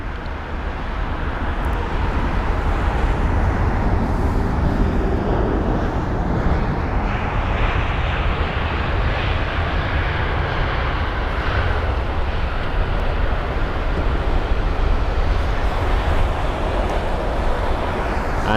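Jet aircraft arriving at London Heathrow, a steady broad engine roar that swells slightly and holds at a fairly close distance, with no talking.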